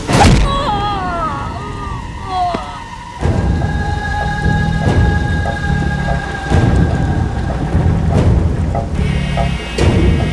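Heavy rain pours steadily and loudly while thunder cracks and rumbles through it, in a stormy scene where a tree has fallen and blocked the road.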